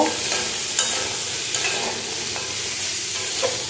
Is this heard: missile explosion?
no